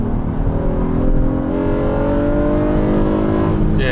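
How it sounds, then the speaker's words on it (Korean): Honda Odyssey with a 3.5L V6 accelerating hard on a kickdown, its engine note climbing steadily in pitch as the minivan pulls, heard loudly from inside the cabin. "킥다운을 해서 잠깐 가속력을 테스트해 보면은요"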